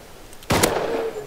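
A single sharp gunshot cracks out midway in the Rust video game, loud and close, followed by a short ringing tail over a quiet background.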